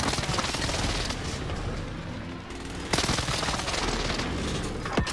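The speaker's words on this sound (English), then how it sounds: "Enemy precision airstrike." Video game airstrike strikes hitting in dense, sustained volleys, loud and continuous, with a sharp fresh burst midway and no voices.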